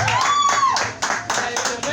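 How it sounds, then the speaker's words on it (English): A comedy club audience claps for a comedian at an open-mic happy hour, a short burst of nearby applause with a voice talking over it. "You guys better clap."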